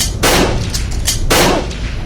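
Two loud, close gunshots roughly a second apart, each a sharp broadband crack trailing into a brief rumble, with no talking.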